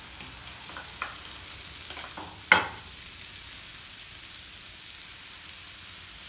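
Tomato drops into a pan of tuna and shrimp sauce with a short burst of sizzle, followed by a quieter steady frying hiss and a few faint stirring clicks.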